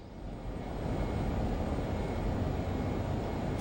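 A Learjet's engines drone steadily on landing approach in a flight simulator game, a smooth continuous roar that swells slightly after the first half second and holds loud and even throughout.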